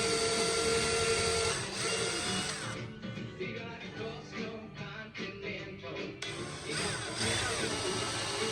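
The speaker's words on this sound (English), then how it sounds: "As I speed up the drill." Power drill whirring steadily as it spins while finishing a wooden lazy Susan, with the pitch and texture shifting midway, close and continuous.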